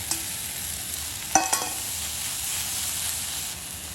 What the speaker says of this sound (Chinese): 蒜苗炒里头， 鸡蛋炒里头，